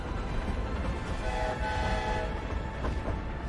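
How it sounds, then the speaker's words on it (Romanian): A train horn sounds in the video game Hogwarts Legacy, a steady sustained tone held for a few seconds over loud continuous rumbling rail noise, with no talking. "Ne salută și trenul."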